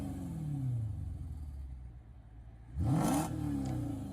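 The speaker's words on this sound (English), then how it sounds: "I'll let you listen to the car." A Mercedes-Benz S-Class W221 naturally aspirated V8 idles low and burbles, then revs sharply once with a rising roar before settling back, heard close by with no talking.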